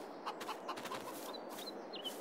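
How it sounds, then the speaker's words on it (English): A flock of chickens clucks inside a large coop in Farming Simulator 22, with soft repeated clucks and a few higher squawks over a dense, steady farmyard murmur at moderate volume. "We have another chicken coop, 250 chickens."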